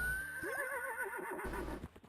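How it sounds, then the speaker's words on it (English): A horse in the video game Fields of Mistria gives one clear, close neigh, a descending wavering whinny lasting about a second over quiet background game ambience. "Horse!"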